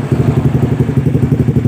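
A Honda CB150R motorcycle with its starter engaging: a loud, steady rapid churning pulse, close and alone, lasting under two seconds.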